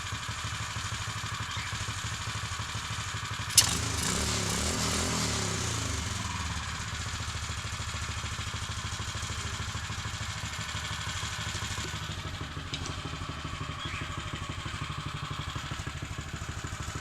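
A Kustom Mega Moto minibike with its chain removed runs steadily in a garage, a rough single-cylinder drone that jumps briefly with a sharp clack and a short rev before settling back to an even idle.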